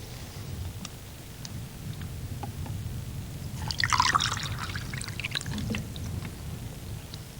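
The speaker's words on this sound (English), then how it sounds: "Pour some water on it." Water is poured onto a lump of shale beneath limestone cliffs, giving a brief splashing, trickling burst midway that stands out over a low, steady background rumble.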